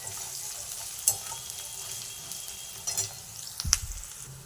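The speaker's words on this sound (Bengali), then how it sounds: "পেঁয়াজটা আমি একটু ভাজা ভাজা করে নেব।" Sliced onions frying in hot oil with bay leaves and five-spice seasoning, a steady close sizzle broken by a few sharp clinks and scrapes of a stirring spatula.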